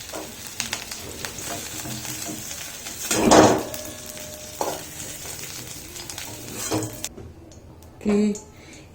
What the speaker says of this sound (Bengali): ফুলকপিগুলো আমি কড়াই থেকে সরিয়ে নেব।